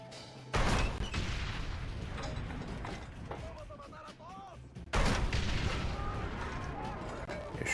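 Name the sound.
gunfire in Red Dead Redemption video game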